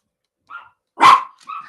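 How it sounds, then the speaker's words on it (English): A dog barks once, sharp and fairly loud, between softer yips and whimpers, with silence around it. "get that dog in so he quit barking"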